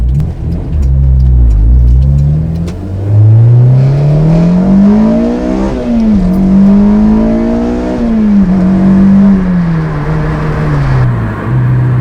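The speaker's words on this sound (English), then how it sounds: "See if I can hit vtec here real quick" A Honda S2000 engine revs hard into VTEC, its pitch climbing and dipping through several gear pulls, loud, sustained and close throughout with no talking.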